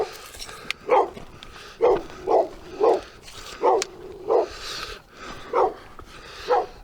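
A dog barks repeatedly from a short distance outdoors, about nine sharp, evenly spaced woofs over steady background hiss.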